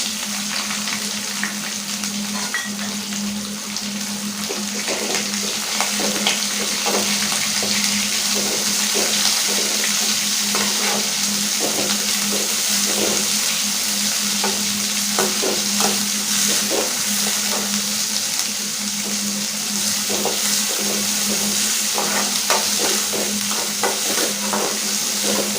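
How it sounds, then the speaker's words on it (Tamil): Onion and curry leaves frying in oil with popped mustard seeds in a pan, a loud continuous close sizzle with scraping stirs throughout and no talking. "கடுகு நல்லா பொரிஞ்ச பிறகு கருவேப்பிலை, பெரிய வெங்காயம் பார்த்து நீல வாக்கில் கட் பண்ணி வச்சுருக்கேன்,"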